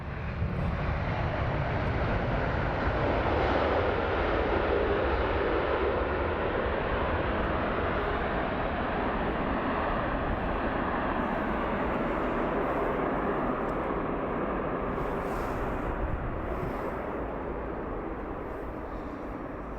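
Boeing 787 Dreamliner at London Heathrow, a steady broad jet roar filling the whole stretch, loud at first and slowly fading as it recedes, with no talk.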